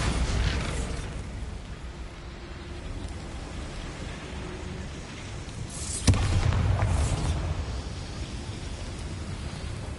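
A Bombarda blasting spell in Hogwarts Legacy: one sharp, loud blast bursts out of a steady, rumbling, mechanical game ambience and leaves a brief, heavier swell behind it.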